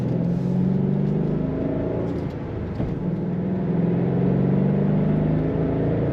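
2009 Ford Mustang Bullitt with a manual gearbox, its engine droning steadily with a slight rise and fall in pitch, loud and close from inside the car, with no talking.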